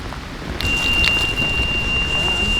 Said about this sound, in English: it was a rush to get our shelters set up in time before the rain hit